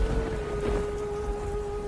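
Rain falls in an animated jungle story, a steady soft wash of drops with a faint rumble underneath and a sustained thin tone running across it.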